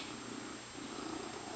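Pet cat purring up close, a steady continuous low rumble with a faint hiss, heard alone with no voices.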